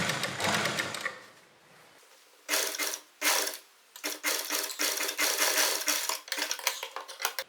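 Sewing machine stitching around the corner of a kurti with piping, several loud whirring bursts that stop and restart as the needle is held down and the fabric turned, with no talking.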